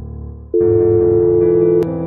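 Telephone call tones: a low hum gives way to a loud steady electronic tone that holds for over a second, shifts pitch, then drops slightly, with a brief click near the end.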